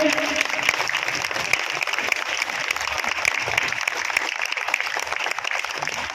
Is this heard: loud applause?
yes